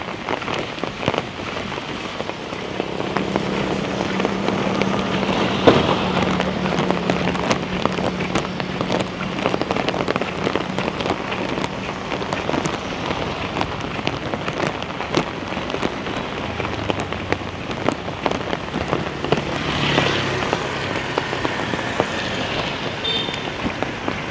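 Heavy rain pours steadily onto surfaces, a dense continuous hiss with scattered louder drops, and no talking.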